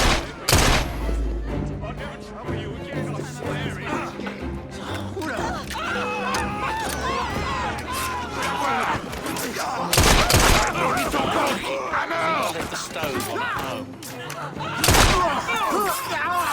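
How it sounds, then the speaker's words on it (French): Gunfire from shooters in Assassin's Creed Syndicate, a few loud isolated shots spaced seconds apart over busy game sound and music, with speech heard throughout. "Je crois que cette ordure m'a tiré dessus."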